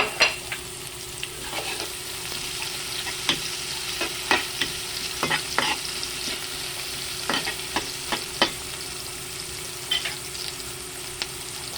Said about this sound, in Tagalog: Ang ating sibuyas. Sautay lang.